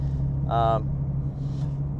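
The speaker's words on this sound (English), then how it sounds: "the Roush Axle-Backs, which she's had on this car since the beginning. And they still sound fantastic." A 2014 Ford Mustang V6 with Roush axle-back exhaust idles with a steady low rumble near the microphone, while a person speaks briefly over it.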